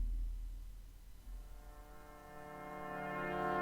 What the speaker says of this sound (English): I think there was a chord that brought us in,